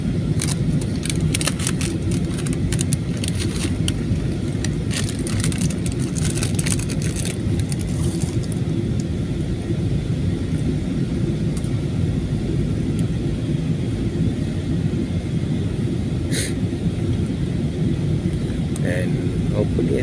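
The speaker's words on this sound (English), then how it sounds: "We are going to try another landing." Airliner cabin during a go-around on approach to Ninoy Aquino International Airport Terminal II after a flight from Dumaguete, with steady loud engine roar throughout and scattered clicks and rattles early on; voices talk over the noise.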